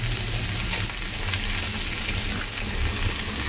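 Chopped onions and chillies sizzle steadily in hot oil, a tempering for a Telugu amaranth-leaf and chana dal dish; the frying is close, even and continuous, with no talk.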